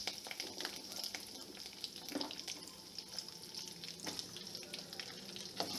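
Drumstick pieces fry in oil with curry leaves, a soft continuous sizzle and hiss with occasional light stirring clicks, faint and close, with no talk.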